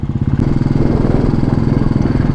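A motorcycle rides across the sand at Drive Beach in Kerala, its engine a close, steady, rapid putter with a rough, pulsing rhythm and no talking.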